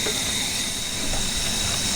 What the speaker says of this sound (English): let's fire up our stove